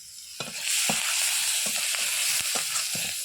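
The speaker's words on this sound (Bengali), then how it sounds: "এবার ওই তেলের মধ্যেই দেবো পেঁয়াজ কুচি পেঁয়াজগুলোকে ভালোভাবে ভেজে নেব" Loud, continuous sizzle of chopped onions frying in oil left from frying fish, with a few sharp scraping taps from stirring.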